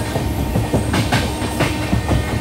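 A train rolling along the rails near Raiwala junction on Northern Railway, a steady close rumble with rhythmic clickety-clack of wheels over rail joints, no voices.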